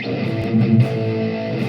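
A short burst of heavily distorted electric guitar through a Friedman amp with gain at maximum, a thick, buzzing high-gain tone, loud and close.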